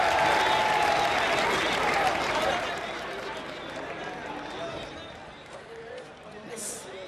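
Audience applause at an outdoor government award ceremony in India, a broad wash of clapping from a large crowd that starts loud and gradually thins, with speech-like voices and crowd noise mixed in.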